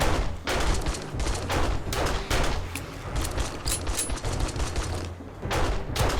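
Dense, rapid gunfire from 7 Days to Die, with loud repeated shots in quick irregular bursts and brief gaps, close and continuous.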